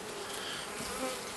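Honey bees drone in a steady, dense buzz inside a queenless hive after a split, heard up close as a continuous faint hum with no breaks.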